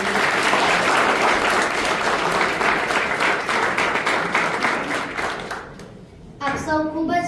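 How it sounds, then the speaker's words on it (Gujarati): A school audience gathered for a poets' meeting claps loudly in sustained applause that fades out. A voice starts speaking right after. "તો સૌપ્રથમ એને તાળીઓના ગડગડાટથી વધાવી દઈએ."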